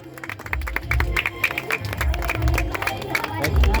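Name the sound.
people clapping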